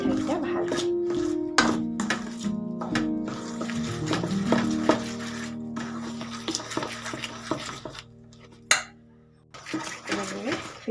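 Jaggery batter for Assamese ghila pitha being beaten in a bowl, heard as repeated close clinks and scraping strokes under a voice talking, with occasional louder knocks against the vessel.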